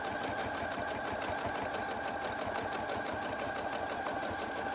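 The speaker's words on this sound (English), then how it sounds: "while I am sewing" A sewing machine stitches fabric for textile art, running at a steady fast clip with an even mechanical rattle, close and continuous.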